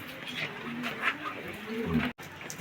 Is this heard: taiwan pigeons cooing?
yes